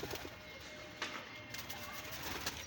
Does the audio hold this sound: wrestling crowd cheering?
no